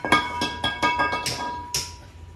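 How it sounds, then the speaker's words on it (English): A hammer smacks the brake rotor on a 2008 Honda Accord, six or seven sharp metallic strikes in an even rhythm with ringing overtones, close and loud. "Just give it a smack with the hammer on the rotor."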